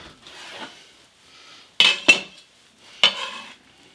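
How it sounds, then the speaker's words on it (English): A knife cutting a vegan quesadilla in half on a board, with a few sharp clinks and scrapes of metal against the plate or board in short separate strokes, close and fairly loud in otherwise quiet surroundings. "Okay, so I need to cut this in half."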